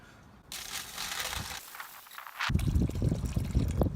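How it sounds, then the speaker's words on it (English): Apple juice is poured into the foil-covered water pan of a Weber Smoky Mountain smoker, starting with crinkling foil and then a close, splashy trickle of liquid. "And we're going to pour some apple juice into it."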